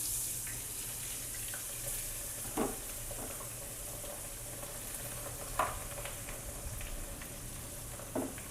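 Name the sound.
bafia gunda (gum berries) added to hot oil tempering, sizzling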